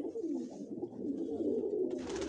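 Pigeons coo in soft, low, rolling murmurs, continuous and close, with faint bird chatter above and no talk.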